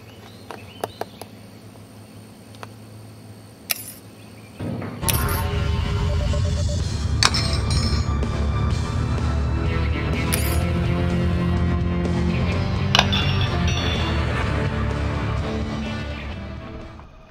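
A crossbow is loaded and test fired, ending in a misfire where the bolt never leaves the weapon: sharp isolated clicks and ratcheting mechanical snaps, then a sustained loud metallic rattling and buzzing with scattered clanks, no talk.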